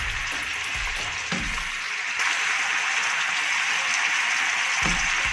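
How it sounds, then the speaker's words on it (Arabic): Beef sautés in ghee with a loud, dense, continuous sizzle and crackle, broken now and then by the low scrape of stirring. "اللحمة وهي بتتشوح في السمنة جميلة قوي، ريحتها حلوة قوي"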